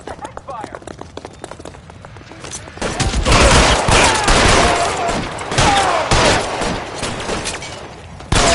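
Gunfire in a shootout in the video game L.A. Noire: a quiet start with scattered shots, then a loud, dense barrage of rapid overlapping shots from about three seconds on, sustained to the end.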